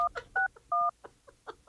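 Telephone keypad tones beep in a quick uneven sequence of short dual-tone presses, some held a little longer, heard close and clear with brief gaps between them.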